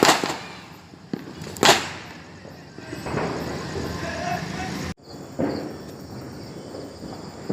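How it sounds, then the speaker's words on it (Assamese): Diwali firecrackers burst nearby at night, with several sharp cracks and bangs scattered through steady background hiss and crackle. Faint voices sit in the background. "এয়া ফটকা ফুটাই আছে চাওকচোন"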